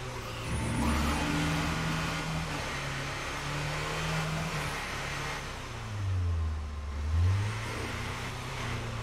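A car engine in the video game State of Decay 2 hums at mid pitch, rising and falling with revs and swelling into a louder acceleration near the end.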